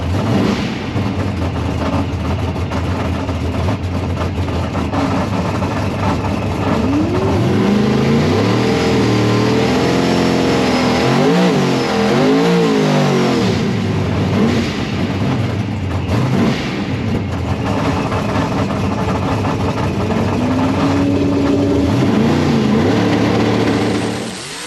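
A race car engine attempts a full acceleration pass, heard up close as a loud, continuous roar whose revs rise, waver and dip repeatedly before settling into a sustained drone.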